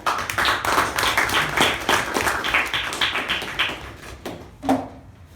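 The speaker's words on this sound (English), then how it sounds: "With a huge round of applause, please help me welcome Toastmaster Vijay." A meeting audience at a Toastmasters club gives a hearty round of applause to welcome the next speaker, steady dense clapping for several seconds before it tapers off, close and loud.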